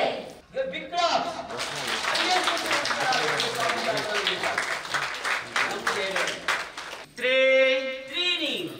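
A yoga session group breaking into loud applause, many hands clapping together for several seconds, with a voice calling out around the clapping before and after.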